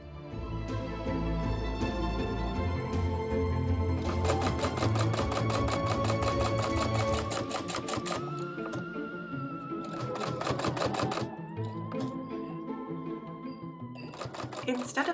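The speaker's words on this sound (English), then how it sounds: "you can use a sewing machine to make the seam in one step by stitching over the fully folded fabric" A sewing machine stitches a hem over folded slippery satin, a rapid mechanical rattle that starts and stops in bursts, heard close under continuous spoken narration.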